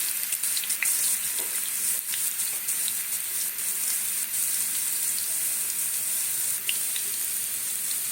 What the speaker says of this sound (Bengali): প্রথমে আলুগুলোকে ভেজে নেবো এই তেলেই আমার সমস্ত কিছু হয়ে যাবে